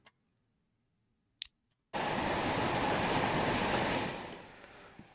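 Train running in the video game Transport Fever 2, a few faint clicks in near silence, then a sudden loud continuous rumble of rolling wagons that eases off toward the end.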